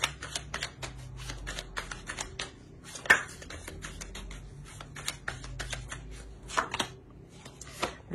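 Tarot cards are drawn and laid onto a spread on a table: a run of soft, quick card flicks and taps with one sharper snap midway, close and quiet, no speech.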